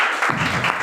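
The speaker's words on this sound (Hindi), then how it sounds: "आगे और एक जोरदार ताली होनी चाहिए" A burst of applause breaks out from an audience at a business plan presentation, a loud dense clatter of clapping that starts abruptly and continues.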